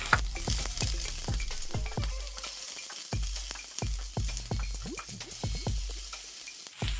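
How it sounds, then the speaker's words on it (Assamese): Chopped onions sizzle in hot oil for a butter chicken masala, with a steady frying hiss broken by repeated sharp utensil clicks and knocks against the pan, close and moderately loud, no talking. "তেল গৰম হৈছে, পিঁয়াজখিনি দি ল'লোঁ।"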